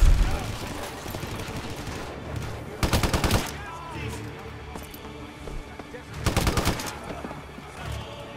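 Gunfire in Hitman Absolution, with two loud bursts of rapid shots around three and six seconds standing out over a busy background of game noise and birds, and someone talking in between.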